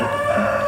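A rooster crows close by, one short, loud, tonal call that holds a sustained pitch with harmonics before it cuts off, with no speech alongside.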